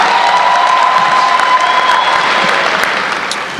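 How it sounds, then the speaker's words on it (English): A crowd at a special celebration applauds loudly and steadily for the Tigers, dense clapping mixed with some cheering that keeps going and fades slightly near the end. "Let's give another round of applause for these Tigers."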